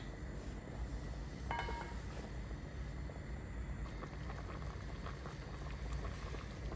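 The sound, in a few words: water boiling in pot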